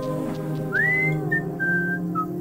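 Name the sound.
person whistling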